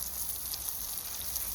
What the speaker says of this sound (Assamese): ভাজি আছে